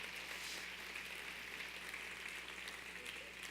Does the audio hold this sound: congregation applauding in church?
yes